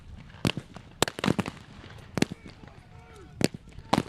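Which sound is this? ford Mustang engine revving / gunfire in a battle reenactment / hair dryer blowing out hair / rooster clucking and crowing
gunfire in a battle reenactment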